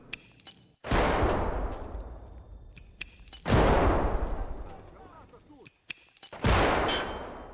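Loud, booming blasts in the Escape from Tarkov shooter game, three heavy explosions spaced a few seconds apart, each with a long rumbling decay, with brief clicks and faint sounds between them.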